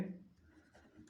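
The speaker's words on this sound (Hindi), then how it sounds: "तो लिखेंगे" A pen or chalk scratches briefly across paper or a board during a ninth-grade math lesson on cones, a short, soft writing sound with a faint voice in the background.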